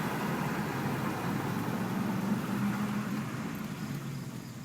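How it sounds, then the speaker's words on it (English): A car with an SMG automated gearbox slows down, downshifting through the gears and coming to a stop in first, heard as a steady engine drone with a low tone that rises and falls briefly as revs drop, fairly continuous throughout. "the car will downshift and come to a stop and reside in gear 1"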